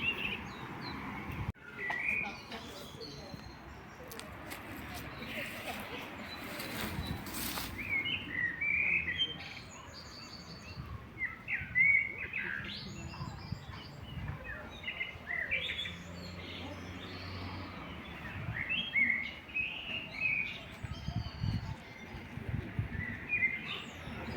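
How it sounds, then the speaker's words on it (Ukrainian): Songbirds chirp and trill along a street in Kraków, with repeated short bright calls scattered over a steady background hum, moderately distant, and a brief voice in the middle. "безкоштовно нам дарують спів пташки, концерт пташок"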